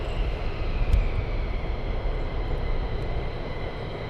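An F-15 military jet flying at RAF Lakenheath gives a steady, loud broadband roar that holds at the same level throughout, with no voices.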